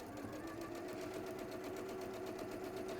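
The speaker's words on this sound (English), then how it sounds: "So you're just sewing those two pieces together then" Sewing machine stitching two pieces of fabric together with a quarter-inch seam, a faint, steady mechanical whir with a regular rapid rhythm running continuously.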